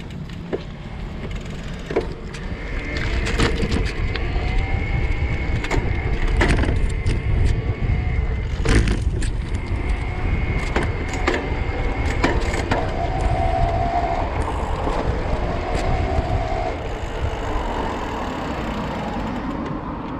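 Riding a Specialized Turbo Vado 4.0 electric bike outdoors, with a steady rolling whir of pedaling and drivetrain, occasional sharp clicks and clunks from gear shifts, and a constant rush of wind and road noise throughout.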